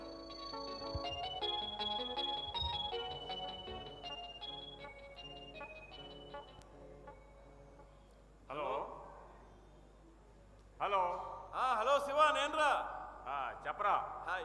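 A phone ringtone plays a repeating melodic tune, unanswered, during a live stage play, steady and moderately loud, then voices talk over it toward the end.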